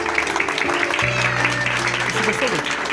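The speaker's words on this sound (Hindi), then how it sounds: "तालियां बजाएंगे" An audience at a church leadership conference in Khyber Pakhtunkhwa breaks into a dense, continuous wash of applause, with a voice and tonal sounds carrying through it.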